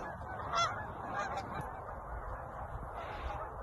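Canada geese come down among decoys, a few honks rising clearly over a low, steady outdoor rumble, fairly close but not loud, with no talk over them.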